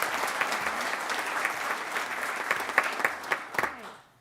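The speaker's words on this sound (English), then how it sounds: "let's give him a round of applause." A county commission meeting audience gives a round of applause for a long-serving employee, a full, steady clapping from many people with sharper individual claps near the end before it fades out.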